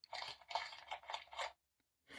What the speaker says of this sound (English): Oh, they're crunching the carrots.